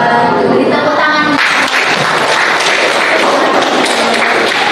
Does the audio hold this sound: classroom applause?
yes